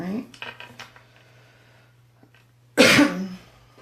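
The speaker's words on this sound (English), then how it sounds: "I apologize for coughing so much." A burst of coughing from a woman working on a craft project, one loud close cough after quieter rustling and faint handling noises.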